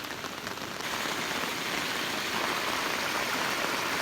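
Heavy rain pours steadily in a forest in rural southern Laos during a storm, a dense, continuous hiss of drops on foliage and ground blended with rushing runoff water, loud and close throughout with no voices.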